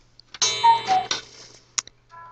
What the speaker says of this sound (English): Sorry, that's my cuckoo clock.